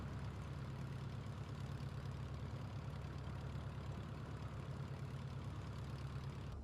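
A Piper Arrow III light aircraft engine idles in Microsoft Flight Simulator 2020 with a steady low, even drone throughout, fairly quiet and unchanging.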